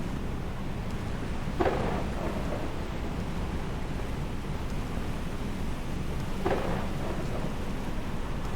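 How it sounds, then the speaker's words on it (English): Thunderstorm in the video game Space Engineers, a steady heavy rain hiss with two distinct thunder cracks rolling through, the first around midway and the second near the end. "Beautiful storm."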